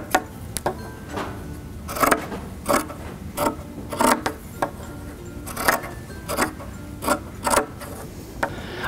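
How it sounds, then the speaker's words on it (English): Scissors snip through T-shirt fabric to cut quarter-inch fringe strips, giving a steady series of short, close crunchy cuts roughly every half second with no talking. "Next, we'll take our scissors and cut 1/4 inch strips apart."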